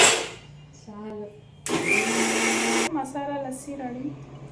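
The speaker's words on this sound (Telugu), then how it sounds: "ఫస్ట్ దాన్ని మంచిగా మిక్సీ చేసుకోవాలి." A kitchen mixer blending masala lassi runs in one loud, steady whirring burst of just over a second, with speech before and after it.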